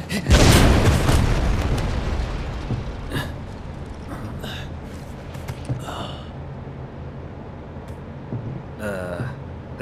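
A bomb detonates at a reactor in Final Fantasy VII Rebirth: a loud, heavy boom right at the start that rolls into a long, fading rumble, followed by a few faint breathy vocal sounds.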